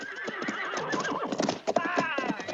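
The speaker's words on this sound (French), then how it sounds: "J'aurais besoin d'une dizaine de chevaux." Horses neigh and whinny while hooves clip-clop on ground in a 1968 western film scene, several sharp clops and bursts of whinnying close by, with a voice faintly present underneath.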